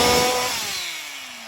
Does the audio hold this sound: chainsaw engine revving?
yes